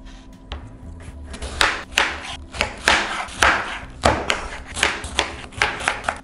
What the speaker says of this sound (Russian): а я нарежу кубиками.